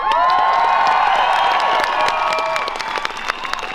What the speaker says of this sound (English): So let's give a cheer to Preston, who's having a rally tonight.